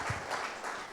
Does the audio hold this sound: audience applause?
yes